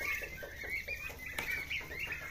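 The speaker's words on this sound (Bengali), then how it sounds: "যে কোনো ঘাস, নরম ঘাস টার্কি মুরগিতে খায়।" Turkeys on a low-cost farm in Shibganj, Chapainawabganj, cluck softly and repeatedly while pecking at cut soft grass, a steady run of close, murmuring calls over faint background noise.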